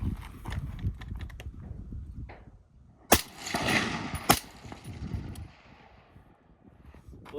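AR rifle firing 90 grain ELD-X ammunition with a standard buffer spring and heavy buffer, two loud sharp shots a little over a second apart standing out over quieter background noise.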